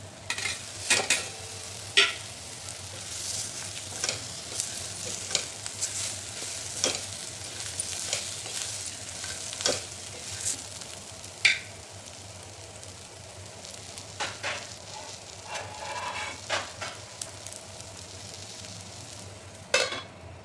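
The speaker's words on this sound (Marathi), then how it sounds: "मसाला छान परतलेला आहे, त्यामध्ये आपण जी वांगी ती घालायची" Eggplants frying in a spiced masala while being stirred: a soft, continuous sizzle broken by frequent scraping and clinking strokes of a spatula against the pan, close and fairly quiet.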